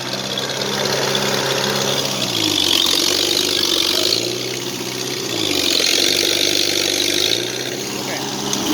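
A Farmall C tractor pulling an Oliver plow runs loud and close, its engine note dipping and rising twice as the load and throttle change.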